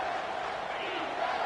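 Home football crowd roaring during a third-down defensive stand, a dense continuous wall of cheering and shouting that stays loud throughout, with a commentator speaking over it.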